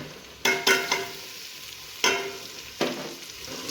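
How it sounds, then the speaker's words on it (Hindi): Garlic and ginger sizzle in a hot pan, with several sharp scraping strokes of a spoon stirring them at irregular intervals over a steady frying hiss. "तो अब लहसुन अदरक को भूनते हैं अच्छे तरीके से"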